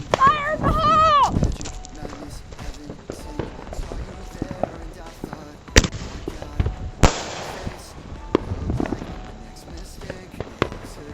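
Fireworks and firecrackers go off in a backyard show: a whistling rocket at the start, then a series of sharp bangs and crackles scattered irregularly, some loud and close, with people's voices in between.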